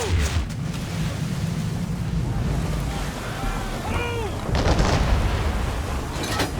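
Ship cannons firing in a naval battle in Assassin's Creed 3, heard as heavy booms over wind and sea wash, with a louder burst near the end.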